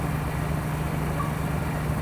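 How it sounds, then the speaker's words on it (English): Low, slow-speed engine drone from the Halo 3 Warthog in the video game, a steady humming rumble with no speech over it. "Then there's a low Warthog sound when it's kind of slow."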